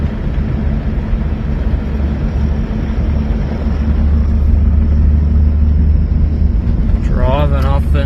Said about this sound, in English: Driving off into the outback at night time again.